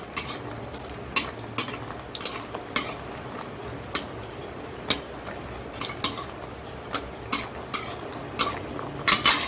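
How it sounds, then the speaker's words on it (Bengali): Lentil dumplings (bori) frying in oil in a pan, heard as a faint sizzle under repeated sharp clinks of a metal spatula or spoon striking the pan at an uneven rhythm, close by and with no talking. "বড়িটা দিয়ে দিচ্ছি এইটা ভাজা করছি"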